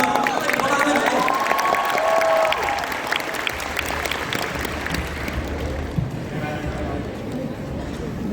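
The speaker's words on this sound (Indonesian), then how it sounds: "Ayo, tepuk tangan." Audience applause at a national youth conference, a thick, continuous clapping wash with some cheering, mixed with voices and a little music, loud and close.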